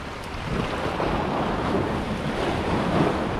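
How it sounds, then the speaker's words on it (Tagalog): A strong water current rushes and surges continuously, a dense, loud, close roar with wind buffeting, and no voices. "Lakas ng agos. Gumaragasa."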